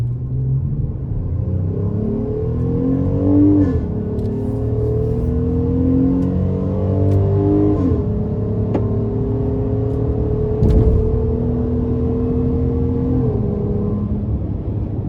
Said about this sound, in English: I really like the sound you get from the exhaust